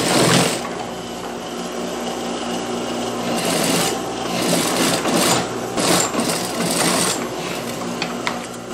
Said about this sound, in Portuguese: vou passar a costura fechando essa cava